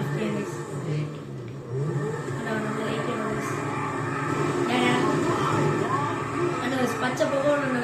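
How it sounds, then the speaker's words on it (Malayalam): Car engine revving hard during a drift in GTA 5, a fluctuating mid-pitched engine drone with tire noise running under someone talking throughout. "ഞാൻ ഇരുട്ടത്തോണ്ട് ഡ്രിഫ്റ്റ് ചെയ്യാം ഗൈസ്."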